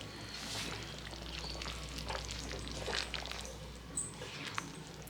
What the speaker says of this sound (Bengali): নাড়িয়ে দেবো এখন